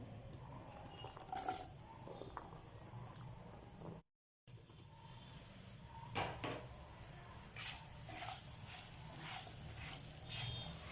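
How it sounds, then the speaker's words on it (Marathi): Raw mango pieces dropped into a hot sizzling tempering for a spicy raw mango chutney, giving a steady frying crackle with a few brighter pops after a brief break, with no talk. "त्यात आपण कैरीच्या फोडी टाकून घेऊ"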